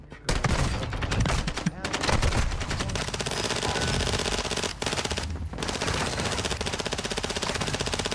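Rapid video game gunfire rattles in dense, sustained automatic bursts for the whole stretch, loud and close, with only brief breaks between volleys.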